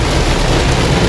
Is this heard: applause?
no